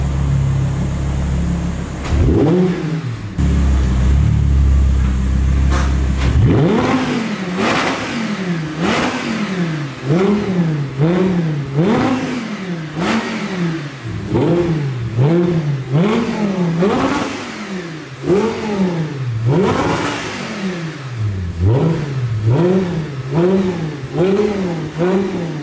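An Audi R8 engine revving hard while driving, repeated rising and falling bursts of throttle with gear-change dips, loud and close throughout, no talk.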